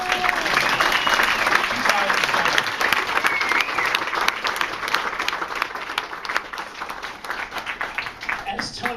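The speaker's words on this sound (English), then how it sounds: "we owe him a kind of a round of applause" An audience applauds Ray Bradbury at a Halloween gathering in Disneyland's Club 33, a dense, sustained round of clapping from a full room that thins toward the end, with faint voices underneath.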